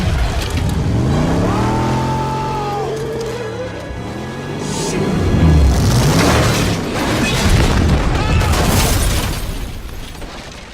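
A car in the 2 Fast 2 Furious ramp jump scene, driven off a ramp onto a yacht: a loud engine whine sweeps up and down, then rising booming rumble and crashing impacts, with dramatic film sound throughout.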